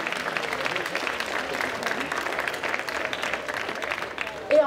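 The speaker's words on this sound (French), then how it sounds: "Donc je pense qu'on peut l'applaudir pour ce joli palmarès." Audience applause at a cosplay competition during the Roanne Geek Convention 2024, a dense, steady wash of clapping from a sizable crowd that holds throughout, ending with a louder burst near the close.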